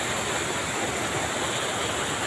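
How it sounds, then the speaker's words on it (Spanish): Continuous, dense rushing of falling water from river cascades at a bathing spot in Chiapas, Mexico, loud and steady with no breaks, like standing near a waterfall. "las cascadas que va formando, el ruido del agua cayendo pues"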